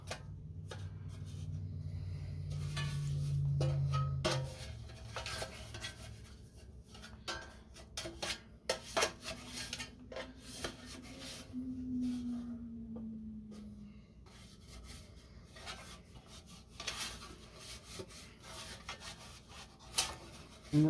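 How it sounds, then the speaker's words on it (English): Butter being spread onto the side of a bread loaf: soft scraping and rubbing strokes, faint and close, in an irregular series with light ticks and kitchen hum underneath. "I'm just going to butter the side of this a little bit"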